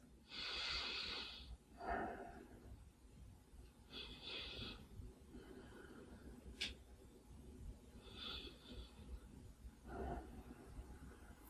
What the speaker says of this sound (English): So listen to the sound of your breath.